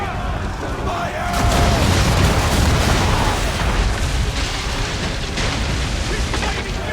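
Swivel gun cannon fire in the Assassin's Creed III video game, a loud, dense barrage of booming blasts and rumbling that swells after the first second and carries on steadily, with shouted voices mixed into the din.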